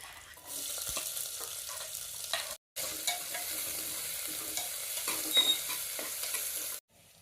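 Onion, garlic and curry leaves fry in hot oil with a steady, close sizzle and stirring scrapes, broken by one brief pause before the frying resumes.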